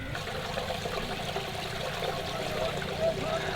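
Water flows steadily out of a tunnel into a channel in a village near Yazman, where tubewell water and rainwater also run in. It makes a continuous close trickling and gurgling wash.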